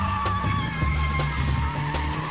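A BMW drifting, its tires skidding and squealing in a continuous loud screech over a roaring, revving engine, close and unbroken throughout.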